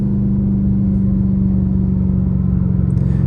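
Catless Dodge Hellcat Redeye driving at night with its exhaust valves closed, a steady, loud, deep engine drone that holds an even pitch throughout.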